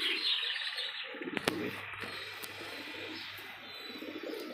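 Desi high-flying pigeons coo and chirp near the listener, with a few sharp clicks early on, and little speech nearby.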